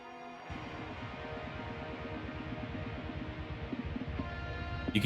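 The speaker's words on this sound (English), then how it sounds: "You can hear the blast beats in the background already as it ramps up." A metal song plays loud and steady, drums pounding in a fast, driving pattern under dense distorted guitars, briefly dropping out near the four-second mark before surging back and building toward blast beats at the end.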